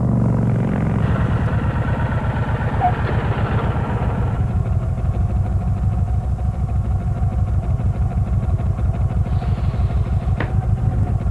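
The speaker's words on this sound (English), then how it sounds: "The new Kawasaki Vulcan 1500 Classic, with the biggest V-twin ever to hit the asphalt" A Kawasaki Vulcan 1500 Classic V-twin motorcycle engine rumbles loudly and steadily, a deep, continuous throb with an even pulsing beat and no talk.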